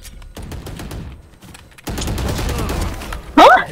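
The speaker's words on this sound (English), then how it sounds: "I'm shooting with a pistol!" Pistol shots from the tactical shooter Valorant on the Breeze map ring out in a quick burst, loud and close, mixed with other game sounds and a talking voice.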